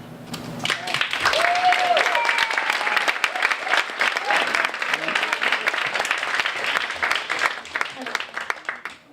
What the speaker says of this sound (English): Try to hold your applause to the very end.